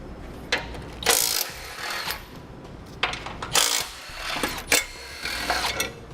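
Ratchet socket wrench clicking as it turns bolts on a base plate kit being installed on a 2018 Jeep Cherokee, with several quick bursts of ratcheting spaced across the stretch, fairly close.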